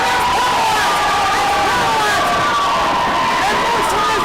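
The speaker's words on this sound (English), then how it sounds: "Getting a standing ovation from this crowd." Wrestling crowd on its feet in a standing ovation, a loud, continuous roar of cheering and shouting that fills the space from start to finish.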